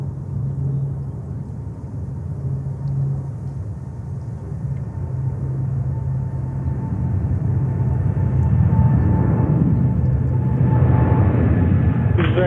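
A heavy airliner takes off from runway 13 right at JFK, a steady low jet rumble with tonal hums that swells louder and broader toward the end as the aircraft builds power, with no voices.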